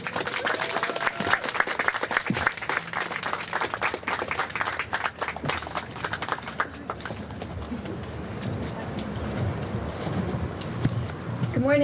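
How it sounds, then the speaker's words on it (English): Applause for a speaker at a housing groundbreaking ceremony fills the first half with dense clapping from a crowd outdoors, then fades into ambient chatter and movement, with a voice speaking briefly near the end. "Another round of applause, please, for George"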